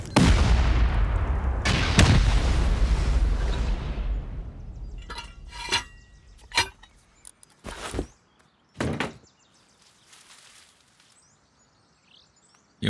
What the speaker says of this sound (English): We'll C4 rocket that.